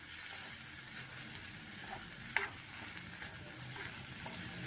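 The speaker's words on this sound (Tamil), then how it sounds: "முட்டையை நடுவில் லேசாக கிளறிட்டு நம்ம இந்த பொரியலோடு சேர்த்து கிளறிக்கலாம்." Egg being stirred into a drumstick flower stir-fry in a pan, with a continuous soft sizzle of frying and a few light scrapes of the spoon against the pan.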